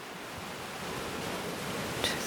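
Soft, steady ocean wash on a sandy shoreline, a continuous broad hiss of surf rolling in with no distinct breaks, ending with a slight swell near the close.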